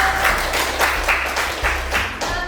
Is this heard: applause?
yes